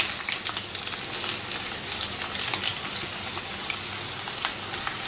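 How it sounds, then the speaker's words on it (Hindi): Onions fry in oil in a pan over a low-medium flame, giving a continuous crackling sizzle with scattered sharp pops, close and moderately loud with no talking. "लो मीडियम फ्लेम पे हमने अपना पैन रखा है और इसमें हमने ऑयल डाला है"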